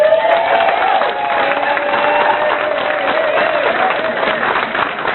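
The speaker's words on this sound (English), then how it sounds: "I want to hear one more huge round of applause for the OMNI Center energy that we have in this room tonight" A dinner crowd in a banquet room gives a big round of applause mixed with cheering and whoops, dense and loud throughout, with shouting voices rising above the clapping.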